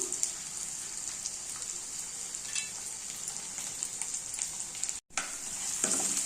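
Ginger, chillies and vegetables frying in a pan for upma, an even crackling sizzle with scattered stirring taps, briefly cut off near the end before resuming, no speech.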